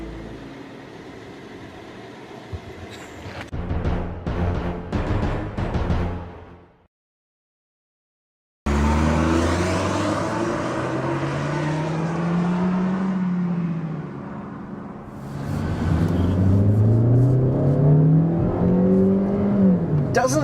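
A 2014 Kia Forte engine hums while driving, dropping out briefly, then returning as a steady drone with rising pitch sweeps as the car accelerates through the gears.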